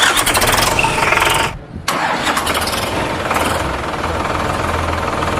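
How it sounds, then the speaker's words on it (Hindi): A Solis Yanmar 4215 tractor engine cranks and starts, with a brief pause before it catches, then settles into a loud, close, steady diesel idle. "आइए हम आपको ट्रैक्टर भी स्टार्ट करवा के एक बार दिखा देते हैं।"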